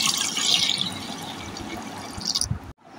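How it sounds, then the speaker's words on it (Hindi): Warm water pours into freshly squeezed lemon juice, a brief splashing rush that is loudest at the start, then settles into a softer trickle before cutting off abruptly near the end. "अब मैं थोड़ा सा गर्म पानी शामिल करूँगी।"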